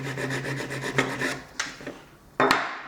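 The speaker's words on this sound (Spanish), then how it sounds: "lo que se hace es limar la parte plana del eje con un papel de lija o con una lima" The flat part of a gear shaft is filed with a file or sandpaper while assembling an MCP panel for a B787: close, rasping back-and-forth strokes that fade, then two sharper scrapes, with no voices.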